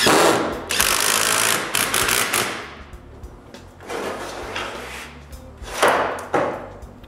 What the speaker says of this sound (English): Now I can go back to the drill press and re-drill to make those small holes bigger.